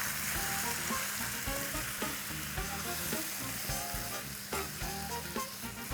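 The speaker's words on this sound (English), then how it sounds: "Moving on to adding some turmeric powder, the wet spice paste, sliced tomatoes, and give all of this a good mix." Turmeric powder, wet spice paste and sliced tomatoes are stirred in a hot pan for a Goan chicken caldine curry, giving a steady close sizzle with repeated scraping and stirring knocks throughout.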